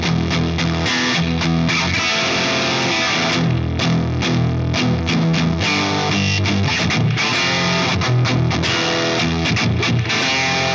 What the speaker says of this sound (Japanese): ペダル側でちょっと歪みを足してみると